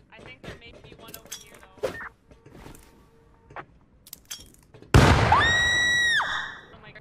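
A grenade blast in the game Rust: a sudden loud explosion bursts in after scattered talk and clicks, followed by a sustained ringing tone that fades after about a second.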